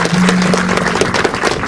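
Loud, dense applause fills a religious ceremony, a close, continuous mass of clapping with a low steady hum underneath.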